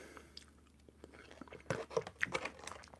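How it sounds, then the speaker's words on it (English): Someone chews fruit close to the microphone, quiet soft crunches and moist bites that grow a little busier toward the end, with no talking. "I hope you guys aren't hearing when I'm chewing."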